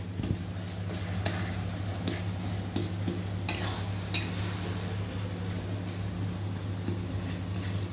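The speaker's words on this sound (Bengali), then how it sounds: "খুন্তি দিয়ে চেপে নিচ্ছে টমেটোগুলো যাতে ভালোভাবে পেস্ট হয়ে যায়।" Tomatoes fry in a pan while a spatula presses them down: a steady sizzle with sharp scraping taps at intervals, close and continuous.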